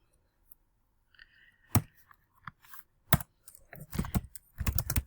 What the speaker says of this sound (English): I'll type this out here.